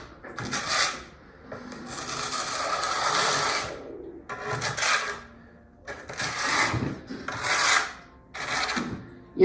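A trowel spreading thinset mortar onto the back of a tile over an uncoupling membrane, heard as repeated close rasping scrapes in separate strokes with short pauses between them.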